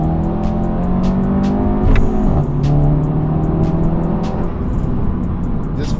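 A Stage 2 tuned Skoda Octavia vRS 230 pulling hard under acceleration, its engine note loud and close from inside as the revs climb, dip briefly at a gear change, then climb again.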